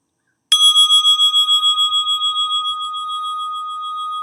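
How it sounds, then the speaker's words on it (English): A single meditation bell strike rings out clearly after a brief silence, its pure tone sustaining and slowly fading with a gentle pulsing shimmer. "we'll end with the sound of the bell"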